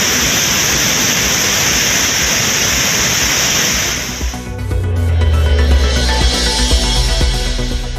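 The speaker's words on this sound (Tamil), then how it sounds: "குற்றாலம் அருவிகளில் வரலாறு காணாத வெள்ளப்பெருக்கு" A flooding waterfall at Courtallam roars in a loud, steady wash of noise, then the scene cuts to a lower rumble of rushing water with a deeper hum underneath.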